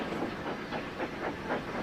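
A long passenger train in the Trainz video game runs steadily along the rails, its rhythmic clickety-clack beats repeating evenly under a constant rolling hiss.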